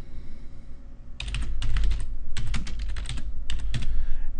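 Quick bursts of typing on a computer keyboard while entering search keywords into a MySQL database search form, several close clicky runs separated by short pauses over a quiet room hum.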